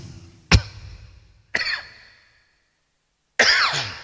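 Three separate coughs, close and fairly loud, spaced apart by short silences, with the last one harsher and longer.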